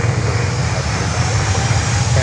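A heavy jet aircraft taking off from a runway at Miami airport, giving a loud, steady, broad engine roar with a deep rumble heard from a distance, while a voice talks over it.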